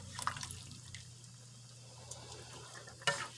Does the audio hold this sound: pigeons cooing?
no